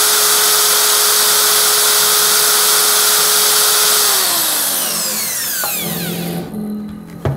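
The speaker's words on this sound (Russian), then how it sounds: "Вот я его здесь устанавливаю и раскручиваю с помощью дрели." An electric drill spins up a gyroscope top in a physics demonstration, holding a loud steady whine before its pitch sweeps down as it slows, leaving the top's whirring hum and a final clatter.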